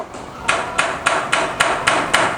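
A hammer strikes metal seven times at an even rhythm while a silversmith works Thai silverware. The blows ring close, loud and clear, with no voices.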